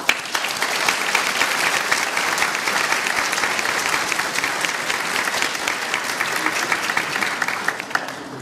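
Audience at an Immigrant Heritage Month city proclamation event claps steadily, a dense continuous patter of many hands at moderate loudness filling the whole stretch.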